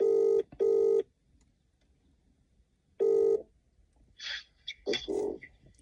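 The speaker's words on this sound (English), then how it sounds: "So we're going to phone him. we're dialing." A phone dials out with a few clear tone bursts, then the line rings with a short burst before faint, chirpy sounds follow, all fairly quiet with no talking.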